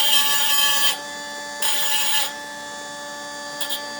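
A mini grinder runs in loud steady bursts against rock, polishing it with a high whine, pausing and resuming twice, then giving a brief final touch.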